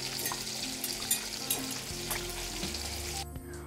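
Vegetables sautéing in a pan keep up a steady close sizzle with a few soft stirring knocks and no talking, and the frying hiss drops sharply near the end.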